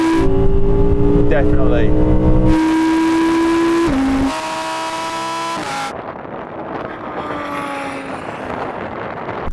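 A Lamborghini Huracan and an Audi R8 accelerate side by side in a drag race, with loud engine roar climbing through gear changes and sudden shifts in pitch, and a person speaks briefly over it.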